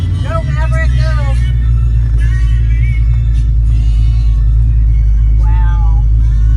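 A Ford Maverick, driven again by its original owner after 30 years in storage, rumbles loudly and steadily as it drives. The low engine drone is close and constant, with voices talking over it.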